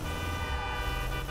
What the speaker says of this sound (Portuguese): Preciso ficar buzinando.